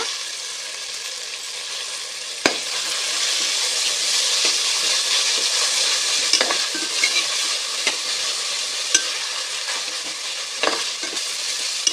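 A steady sizzle of onion, ginger, coriander and mint sautéing in a pan, broken by occasional scrapes and clinks of a spoon stirring, close and continuous.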